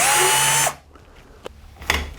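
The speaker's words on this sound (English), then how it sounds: "I'll pre-drill a 1/8 inch hole, then use a burring reamer" A power drill whines loudly and steadily while pre-drilling a 1/8 inch hole in wood for a beehive insulation build, then stops abruptly, leaving a few quiet clicks and knocks.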